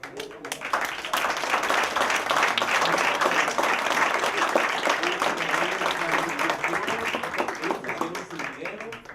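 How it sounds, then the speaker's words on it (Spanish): An audience at a book presentation applauds in a sustained, dense burst of clapping that fills about nine seconds, loud and close, slowly thinning toward the end, with a voice faintly audible beneath it. "les voy a pedir, ¿verdad?, antes de continuar con esto, un aplauso"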